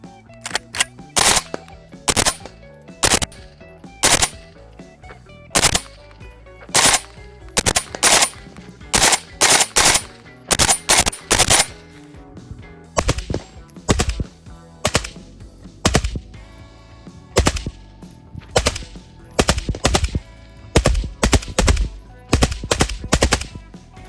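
Repeated bursts of FN SCAR-L rifle fire with a muffled, suppressed crack, sharp volleys separated by short pauses, loud and close throughout.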